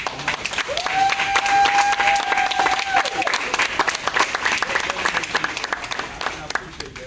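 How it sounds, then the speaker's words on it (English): Sustained audience applause fills a community neighborhood meeting, dense and steady throughout, with a brief whistle-like tone sounding early on. "We got to give him a round of applause."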